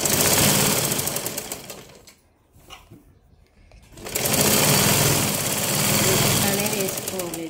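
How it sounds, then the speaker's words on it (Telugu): A sewing machine runs a double stitch on a blouse, loud and close with a steady buzzing whir, then stops for about two seconds before starting again and running steadily to the end. "ఇంకోటి కూడా ఇలానే కుట్టుకొని డబుల్ స్టిచ్ అనేది వేసుకోవాలి."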